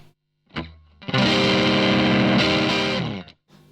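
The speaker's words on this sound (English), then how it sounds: "So quite a lot of distortion there." An electric guitar runs through a TC Electronic Tube Pilot overdrive pedal, giving heavy distortion. A brief plucked note leads into a thick, loud chord that sustains for about two seconds before being cut off.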